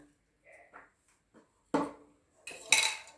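A papaya salad mortar jar is washed, with a few sparse clinks and clattering knocks of pottery and utensils, faint at first then a louder clack and a final rattling bang near the end, with no one talking.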